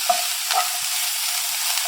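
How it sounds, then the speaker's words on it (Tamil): Onions go into hot oil with cumin seeds in a pan for a fish tikka masala gravy. A bright, even hiss sounds close up, with a couple of small pops and a faint scrape. "நான் வெங்காயம் ஆட் பண்ணிக்கிறேன்."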